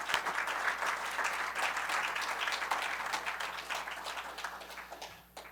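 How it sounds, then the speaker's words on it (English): A conference crowd gives sustained applause, a broad even rush of many hands clapping that stays loud, then thins toward the end. "Let's give them a round of applause."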